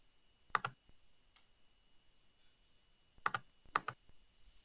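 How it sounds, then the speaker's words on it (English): Computer keyboard keys clatter in brief bursts, one quick pair of taps early and two closer clusters later, close and fairly soft against a quiet background with no voices. "no one wants to hear your keyboard."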